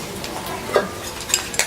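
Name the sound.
stir-frying crickets in oil in a pan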